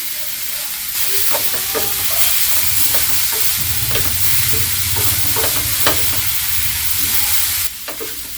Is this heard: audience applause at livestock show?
no